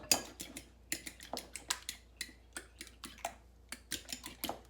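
Eggs are lightly beaten in a bowl with a utensil for cast iron skillet cornbread, giving a brisk series of close, clicking taps against the bowl in an uneven rhythm.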